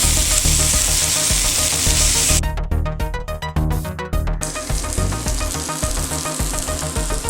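Onions sizzle steadily in a cast iron skillet, a loud, dense frying hiss that runs the whole time with a brief burst of crackling pops partway through.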